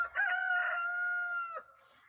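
A single rooster crows near a backyard chicken coop, a loud, close, drawn-out call of about a second and a half with no talk around it.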